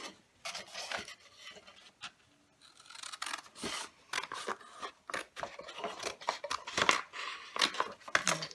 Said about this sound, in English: So I'm just going to trim a little bit off each of these.